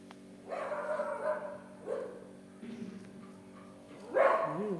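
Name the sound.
dog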